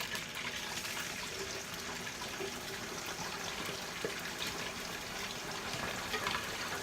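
Food sizzles steadily in a hot pan, a constant crackling hiss with occasional pops, and nobody speaks.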